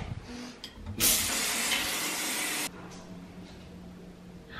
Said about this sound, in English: I think I'm going to go take a shower